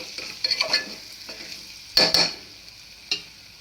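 A spoon stirs vegetable biryani with garam masala in a pan, making intermittent scrapes and clinks over a faint background hiss. The loudest cluster of strokes falls in the middle, with a last scrape near the end.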